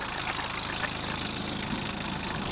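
The diesel engine of a 1981 VW pickup idles steadily nearby on 23-year-old fuel, a dense, even clatter with no talking.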